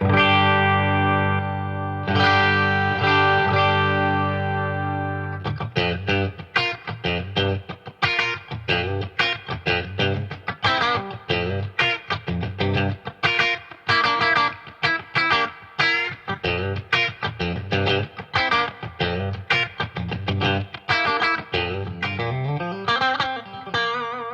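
Distorted electric guitar, a Mayones, with a thin, bright split-coil bridge humbucker tone: a held chord, then fast driving riffs with choppy strums, loud and close.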